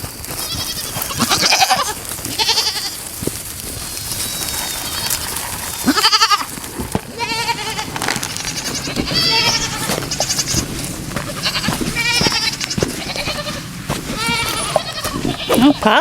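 Several goats bleat repeatedly on a farm pasture, loud and close, with overlapping harmonic cries recurring every second or two against a constant background of movement and rustling.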